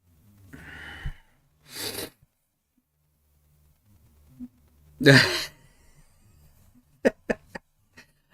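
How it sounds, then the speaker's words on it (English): Breathy bursts and a sharp, forceful sneeze in the middle, followed by a few short sniffs or clicks in quiet surroundings. "I never hold back on a sneeze"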